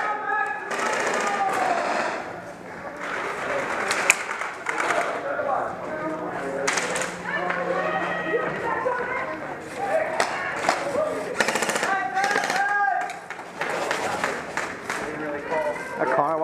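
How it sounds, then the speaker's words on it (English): Guns fire at a wall during an indoor combat game at an indoor arena, with scattered sharp shots and thuds spread throughout, loud and close, mixed with nearly constant shouting and talking from players. "Why are you shooting at the wall?"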